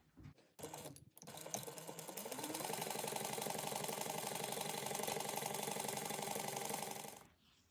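A sewing machine stitches a seam in one continuous, even run of rapid clattering after a couple of brief starts, close and fairly loud, then stops near the end.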